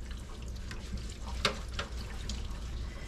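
Hot water runs from a tap into a sink with mint soap, a steady close splashing stream with a few brighter clinks and splashes partway through.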